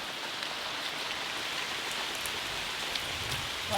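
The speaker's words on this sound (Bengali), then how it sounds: "বাইরে টিপ টিপ করে বৃষ্টি পড়ছে" Steady soft patter of light rain falling outdoors, a continuous even hiss with occasional faint drops, no voices.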